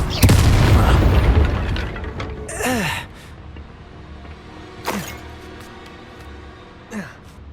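A Confringo fire spell explodes in the wizarding game Hogwarts Legacy, opening with a loud booming blast that fades into a low rumble, then followed by a few whooshing magical swooshes over faint game ambience.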